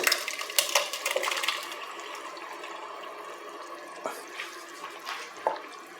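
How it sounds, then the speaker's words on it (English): Tomatoes drop into a pan of shallots, garlic and celery with a wet splash and clatter at the start, then a quieter bed of sizzling broken by a few small clinks and plops, close by. "Now I want to go ahead and add my tomatoes to it."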